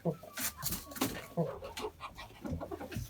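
A flock of turkeys and chickens in a winter poultry yard stirs in a commotion, with overlapping clucks and calls coming in quick, close bursts and a voice faintly beneath.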